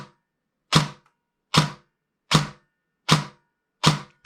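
Airsoft gun shooting without precock on a Turnigy Nanotech 11.1 volt battery, 25 to 50C rating: five crisp, loud single shots spaced roughly three-quarters of a second apart, with silence between them.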